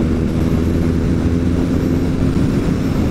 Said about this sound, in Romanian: Uite schimbatul ăla rapid, de care vă spuneam eu.